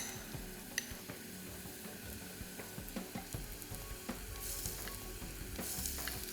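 Spice paste sautéing with onions in oil in a pan for a Goan fish curry, giving a quiet, steady sizzle with faint scraping from stirring throughout.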